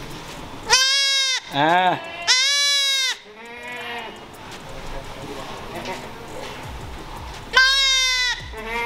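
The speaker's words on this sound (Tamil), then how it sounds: "இங்கே பாருங்கள் குட்டி ஆட்டுக்குட்டி, ஃப்ரெஷ்ஷாக இன்றைக்கி தான் டெலிவர் பண்ணியிருக்காங்க." Goats bleat at a dairy farm, a mother goat and her newborn kid: several loud, close wavering bleats in bursts, with people talking between and over them.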